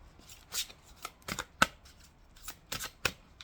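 Native American heart-healing oracle cards shuffled by hand, a series of soft papery riffles and flicks in irregular bursts, close and clear with no talking.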